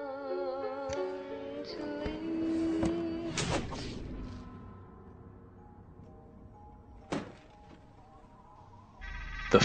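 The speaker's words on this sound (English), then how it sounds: "The phone rang" Telephone ringing with tonal electronic chimes and rings, mixed with clacks and a clunk, at moderate loudness and with no voices.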